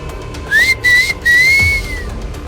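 A man perched in a gulmohar tree whistles a mocking tune: three rising, sustained whistled notes, loud and close, with short gaps between them and no talking.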